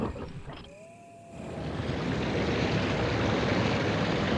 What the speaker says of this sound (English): Sound of the rushing waterfall.